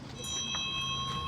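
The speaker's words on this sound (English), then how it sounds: "rings all the bells" Bells rung at an antique flea market in Japan, a sustained bright ringing tone with a few soft knocks, brief and moderately near, with no talking.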